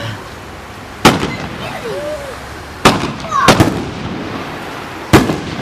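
Fireworks finale shells, a Tommy Gun Effect in a 4th of July display shoot, bursting in sharp loud booms, four separate blasts spaced about a second or two apart with crackling tails between them.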